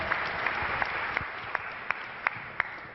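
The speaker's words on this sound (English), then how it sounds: "one more round of applause for Karizma" An audience claps after a startup pitch, a steady wash of applause with regular sharper claps standing out, moderately distant and with no voices over it.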